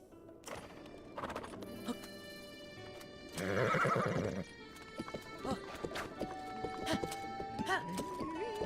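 Shadow, a horse in Zelda: Breath of the Wild, gives a loud whinny, and clip-clop hooves trot on under game music, with a voice talking faintly at times.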